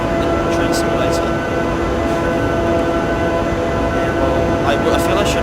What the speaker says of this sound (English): I drive an electric engine in a train simulator